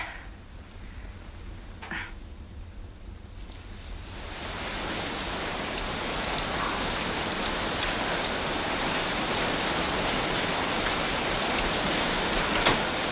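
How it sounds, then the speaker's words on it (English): Rain splashing steadily on the waters of Caribou Lake, a dense hiss that swells after a few seconds and holds, loud and continuous, with a couple of faint knocks early on. "Caribou Lake, where the stillness of the waters is broken only by the splashing of the rain."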